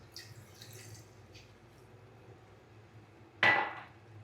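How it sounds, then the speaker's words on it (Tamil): A glass of water goes into a pot of vegetable curry with a single short, sharp splash close by, after a stretch of quiet kitchen background. "அப்புறம் 1 கிளாஸ் தண்ணி ஊற்றிக்கிறோம்."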